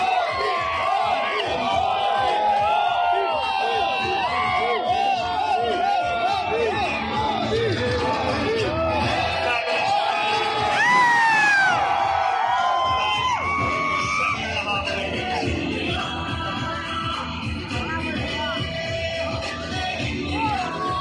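Dense roar of a cricket stadium crowd shouting and cheering at an India vs Australia test match as the captains meet the players, a loud sustained wall of voices with whoops and cries swelling around the middle.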